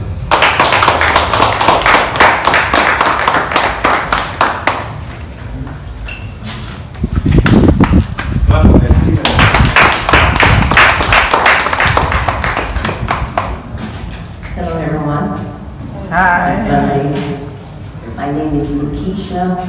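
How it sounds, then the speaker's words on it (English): An audience claps loudly and rapidly in sustained bursts, with a voice speaking over parts of it and calls or singing toward the end. "Clap for Jesus."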